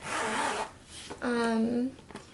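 The zipper on a Chanel Medium Classic Flap handbag pulled in two quick runs, close and crisp, the second stroke longer and more tonal.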